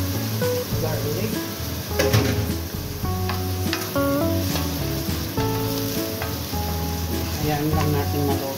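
Garlic sizzles and fries in a hot pan for paella, a continuous crackling hiss with occasional stirring clinks and scrapes, while a voice talks intermittently in the background.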